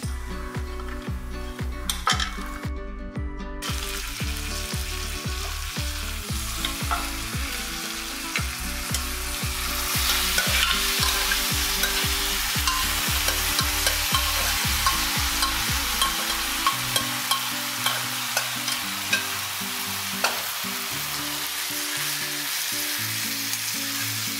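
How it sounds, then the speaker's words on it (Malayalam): Buffalo meat for a Kottayam-style roast frying in hot oil and being stirred, a strong, steady sizzle with scraping and clinking of the spoon against the pan, over rhythmic background music. "ഇനി ഇതിലേക്ക് ഇറച്ചി ഇട്ട് കൊടുക്കാം."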